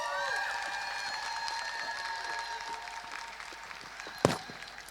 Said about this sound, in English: I really want you to give her another round of applause